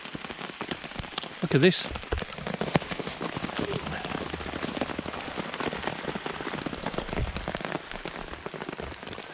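Hail pelting a BCB Crusader MK2 tent in a hail storm, a dense and constant drumming on the fabric, with a brief voice speaking near the start.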